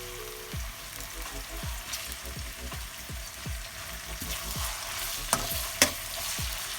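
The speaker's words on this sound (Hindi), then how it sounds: "अब मैं इसके अंदर प्याज डाल रही हूँ।" Sliced small onion frying in hot oil in a pan, a low sizzle under a run of regular stirring scrapes, close and fairly quiet, with a couple of sharper clicks near the end.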